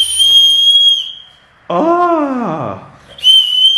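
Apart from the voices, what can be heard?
toy whistle on an umbrella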